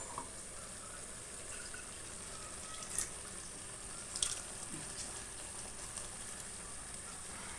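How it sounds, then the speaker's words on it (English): Water poured into a cooking pot of tomato ragu sauce for mutton noodles, a steady close splashing stream running throughout, with a couple of brief clinks along the way. "So you want to put a little bit of water."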